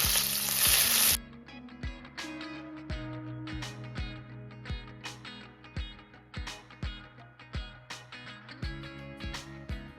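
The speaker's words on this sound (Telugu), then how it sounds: "నూనె వేడయ్యాక మష్రూమ్స్ని వేసుకొని ఒక ఐదు నిమిషాలు అలా వేసుకుందాం" Mushrooms fry in hot oil in a kadai, a soft steady sizzle punctuated by repeated clinks and scrapes of a spatula against the pan, close up, after a brief burst of loud hiss at the start.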